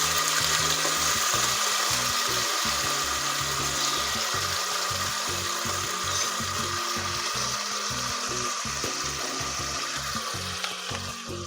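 Spice masala tipped into hot oil in a pot while cooking wedding-style biryani, giving a steady loud sizzling hiss throughout with a run of low rhythmic scraping or stirring knocks underneath.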